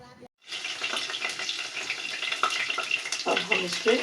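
Water is poured into vegetables cooking in oil, setting off a loud, crackling sizzle right after a brief silence. The frying hiss holds steady with splashy bursts near the pan.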